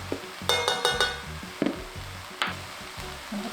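Perilla leaves being stirred in a pan with perilla seed powder after the heat is turned off, a handful of scraping, rustling strokes with a soft sizzle underneath, close and moderately loud, no talking.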